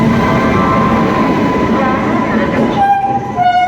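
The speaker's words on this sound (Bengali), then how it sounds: "কলকাতা এক্সপ্রেস ট্রেন এই ঢুকলো।" The Agra Cantonment to Kolkata Express pulls into an Indian railway station with a loud, continuous rumble of rolling wagons, and a sustained horn sounds toward the end.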